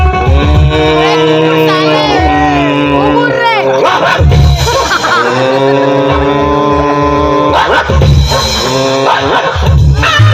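A performer in a Chhattisgarhi nacha gammat comedy stage show imitates a dog, voicing loud barks, yips and whimpers over music and stage sound, with a crowd faintly audible.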